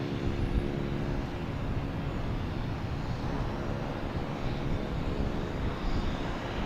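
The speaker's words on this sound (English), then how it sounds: "So that prop you're hearing is Boutique Air" Boutique Air propeller plane running at Boston Logan Airport, a steady, loud engine drone with a low rumble held evenly throughout, no voices over it.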